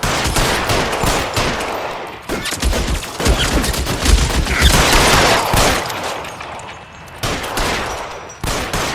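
Dense gunfire from a shootout in the crime video game LA Noire: rapid, overlapping volleys and machine-gun bursts that run loud and close through the whole stretch, with no talk over them.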